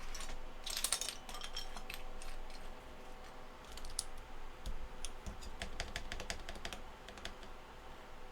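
Scattered plastic keyboard keycaps being gathered up by hand, a close run of light clicks and clacks in irregular clusters over a soft background, with no one talking.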